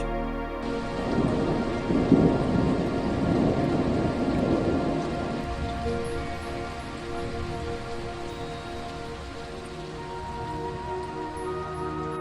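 Steady rain pours down while a low rumble of thunder swells early on and then fades, leaving an even hiss of rainfall.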